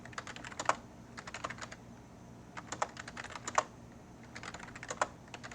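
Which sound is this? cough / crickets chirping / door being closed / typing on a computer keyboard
typing on a computer keyboard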